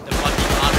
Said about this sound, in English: My own auto turret shot me